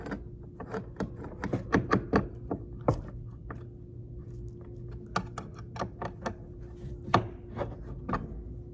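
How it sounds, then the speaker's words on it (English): A small screw is tightened by hand on an IKEA Linanas sofa, producing a close series of quick, irregular ratcheting clicks and taps, fairly dry and crisp, with no one speaking. "Next, you're gonna want to tighten up the little screw."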